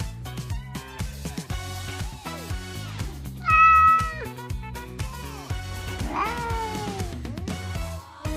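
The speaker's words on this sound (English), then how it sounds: "Calm down, Mr. Cat" A cat meows repeatedly in a home kitchen, a few distinct drawn-out calls rising over steady background music with rhythmic beats.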